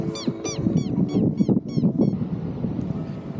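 A goose-like bird honks repeatedly in a quick series of about eight calls, close by, after a paraglider lands in strong wind, with heavy wind buffeting the microphone throughout.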